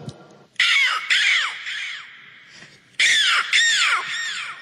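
A mimic's voice imitates a crow cawing: two bursts of loud, harsh, close caws in quick pairs, separated by a short pause, alone without talk.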